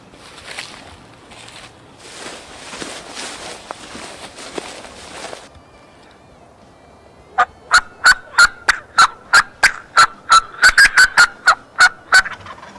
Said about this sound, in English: He's gobbling right there.